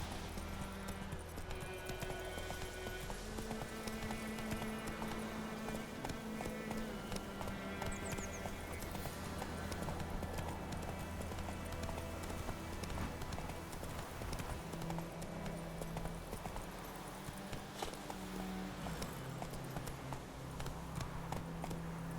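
Roach, Geralt's horse in The Witcher 3: Wild Hunt, gallops in a steady rapid clip-clop of hooves that runs throughout, set against a continuous bed of game music and ambience.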